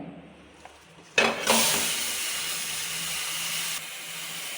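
Flattened anchovy fish laid into a hot pan, a sudden loud burst of hissing sizzle that settles into a steady strong frying hiss, after a quiet lead-in with a soft tap.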